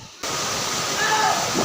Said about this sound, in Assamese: পানীৰ শব্দ শুনিছেনে, কি ডেঞ্জাৰ পানীৰ শব্দ।